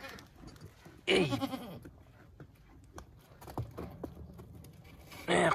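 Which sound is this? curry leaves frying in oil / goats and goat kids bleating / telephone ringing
goats and goat kids bleating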